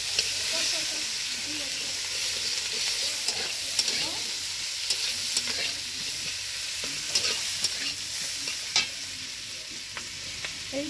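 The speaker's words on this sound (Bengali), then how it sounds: "পেঁয়াজ দিয়ে ভাজা হচ্ছে" Sliced onions sizzle steadily in hot oil in a wok, with a constant frying hiss and scattered scraping clicks from stirring, close and continuous throughout.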